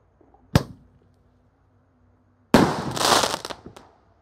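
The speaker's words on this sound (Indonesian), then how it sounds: "terima kasih sudah mengikuti menyalakan mercon Roman Candle terbesar" Roman candle fireworks go off, first a single sharp bang followed by a faint whistle, then a louder burst of whooshing and crackling that fades out.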